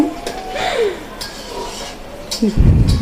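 Pots, pans and utensils clatter and scrape in a home kitchen in Bangladesh as a mother starts cooking, with stirring and light clinks close by and a louder clattering burst near the end; no talk.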